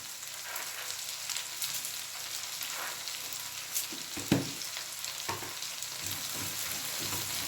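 Dried red chillies and whole peppercorns fry in a pan with a steady, soft, close sizzle throughout, broken by a few small stirring knocks, with no voices.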